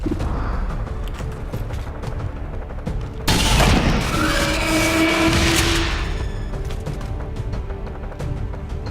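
Gunfire in the XCOM 2 video game, a sudden loud burst of shots and mechanical clatter that rings out for a few seconds over a steady background.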